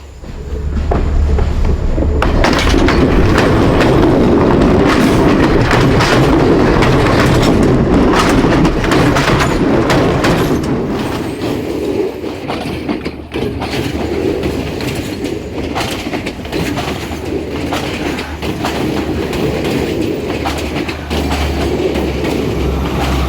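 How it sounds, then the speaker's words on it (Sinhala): A Sri Lanka Railway train rolls loudly and close over a rail spring point, a rumbling roar with rapid clickety-clack of wheels and brief squeals that eases slightly midway and continues steadily. "හරි දැන් ඔන්න කෝච්චිය එනවා."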